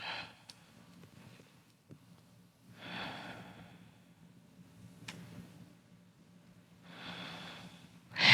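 Slow, deep breaths during a yoga quad and calf stretch, soft airy exhales recurring every few seconds, quiet and close, with a faint tick and a sharper snort-like breath near the end.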